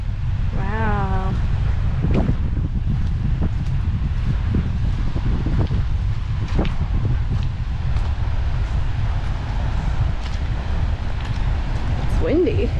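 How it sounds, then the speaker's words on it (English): Steady wind rushes through the thick Daintree Rainforest near the ocean, a constant low roar of microphone buffeting with faint rustling throughout. A few brief bird calls and light knocks rise above it. "It's windy."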